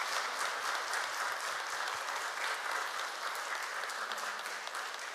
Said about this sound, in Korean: 박수 한번 크게 쳤으면